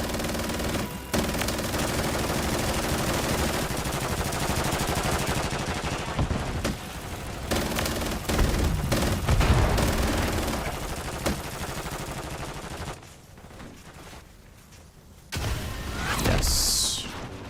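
Video game gunfire, with a teammate firing, comes as dense, loud bursts of rapid shots and crashes that continue with short lulls and a brief quieter gap near the end.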